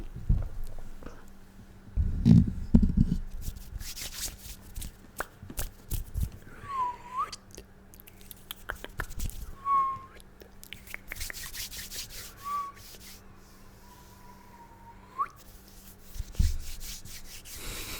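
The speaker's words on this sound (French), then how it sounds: "J'avais oublié que j'avais sifflé, excusez-moi." A person whistles a few short, wavering notes at intervals, mixed with rubbing and scraping noises and a few louder knocks.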